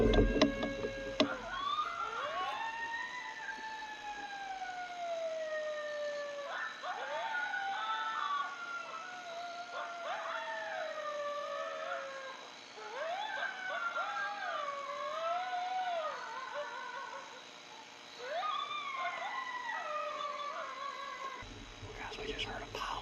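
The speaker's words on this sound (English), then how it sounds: "So let's rip a couple howls right here, see if we can get some to come in" Several coyotes howl and yip in wavering, overlapping calls that rise and fall through most of the stretch, answering a called howl, loud and fairly close with brief lulls between bursts.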